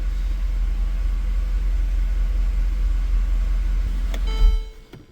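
Mercedes E63 AMG engine running smoothly with a cam solenoid unplugged. A steady, low, close idle rumble continues throughout, then a brief click comes just before the sound cuts off, with no talk.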